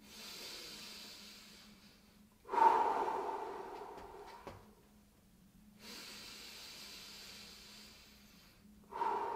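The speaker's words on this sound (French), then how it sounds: "On maintient 3 longues respirations." During a seated shoulder stretch, long, slow breaths come close and clear: a drawn-out inhale, a louder exhale, then another long breath cycle in a quiet room.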